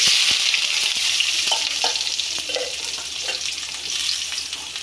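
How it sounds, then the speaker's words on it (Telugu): Onions fry in hot oil with a loud, dense, steady crackling sizzle, close by, with a few faint clinks of a utensil now and then and no voices. "ఆయిల్ హీట్ ఎక్కిన తర్వాత ఎర్రగడ్డలు వేసుకోవాలి"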